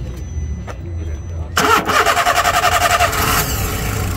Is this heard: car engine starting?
yes